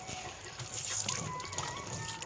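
Tap water running steadily at a hand-wash station in a Sai Baba temple, a moderate continuous hiss and splash close by, with faint background murmur.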